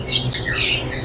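Caged birds, including cut-throat finches, call inside a bird shop in Multan: a brief burst of close, high squawks and chirps over a low room murmur.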